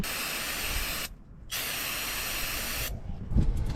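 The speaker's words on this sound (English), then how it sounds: "I've got some parts cleaner here. I'm just going to spray down this drain plug." Aerosol parts cleaner hisses in two long, steady bursts onto a drain plug of an LBZ Duramax, with a brief gap between, close and loud, then a faint clatter.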